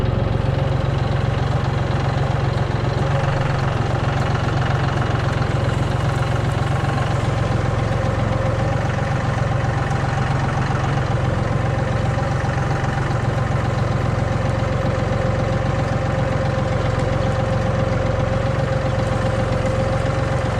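A John Deere 5075E tractor engine idles steadily and loudly up close, with a constant low drone and mechanical vibration and no break in the sound.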